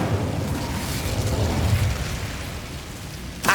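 An Incendio fire spell is cast in Hogwarts Legacy, making a continuous roaring, crackling whoosh of flame that holds steady for several seconds and ends in a short burst.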